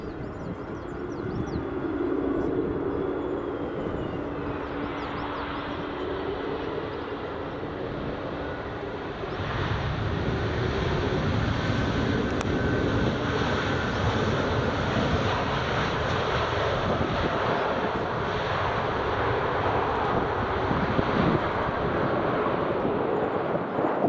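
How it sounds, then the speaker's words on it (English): An EasyJet Airbus A320neo jet taxiing at Edinburgh Airport gives a steady, loud engine roar with broad rushing noise and a low hum, swelling slightly partway through and holding constant, with wind buffeting the microphone. "next up, EasyJet's A320 Neo"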